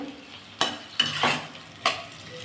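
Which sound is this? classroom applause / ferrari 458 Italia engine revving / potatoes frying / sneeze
potatoes frying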